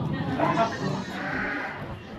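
Sheep on a farm near Sydney bleat nearby in a short burst, while a person talks over them.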